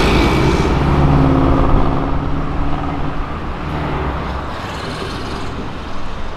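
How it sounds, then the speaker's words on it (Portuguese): A bus passing along a city avenue, a loud, close roadway roar of engine and tyres that swells at first and then slowly eases off over several seconds, with traffic noise around it. "Busão!"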